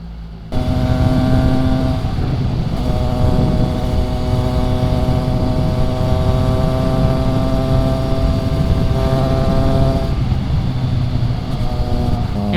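A Triumph Trident 660 motorcycle rides on a commute, its engine note a loud, steady drone with clear harmonic tones that rise and fall slightly as the revs shift, heard from the rider's position without speech.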